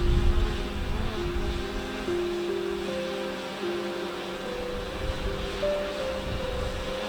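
A Fimi X8 SE drone buzzing steadily during a precision landing over the Snake River Canyon, with a high whine whose pitch steps up and down as the motors adjust, close and continuous with no talk.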